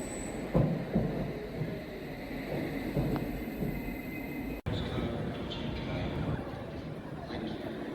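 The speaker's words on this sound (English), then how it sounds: "Our train out to Manningtree is a Greater Anglia Class 745 or 720." A steady Greater Anglia Class 745 electric train rumble with a mid-pitched whine runs throughout, cut briefly by one abrupt break, while a voice talks over it.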